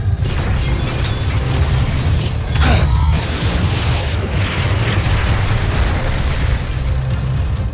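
Rockets burst in an animated battle, with dense, loud, continuous rumbling explosions and crashing debris at close range, with no clear pauses.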